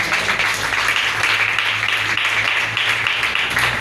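A church congregation applauds and cheers for the Lord, dense, steady clapping from a large crowd filling the room, with faint voices mixed in.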